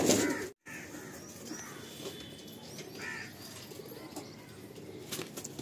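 Madrasi pigeons in a loft give faint, scattered coos and brief wing flutters against a soft background hum, with a momentary dropout near the start.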